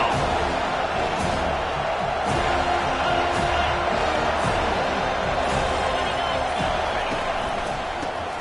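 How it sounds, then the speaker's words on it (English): A home crowd at a Notre Dame football stadium roars on third down, a broad sustained wall of cheering with scattered thumps and shouts, with commentary voices faintly underneath. "Here comes this home crowd as the defense tries to get off the field on third down."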